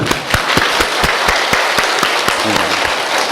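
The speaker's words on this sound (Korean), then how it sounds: "자, 박수 10번." A church congregation at a Christmas service claps in unison, a run of sharp, evenly spaced hand claps about ten in a row, loud and close, with a voice faintly underneath.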